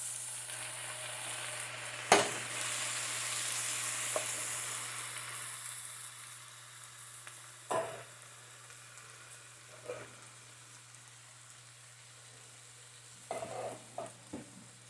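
Beans go into a pot of chili with a soft, steady sizzle, broken by a few sharp clunks and scrapes of stirring, quiet and close, with no talking.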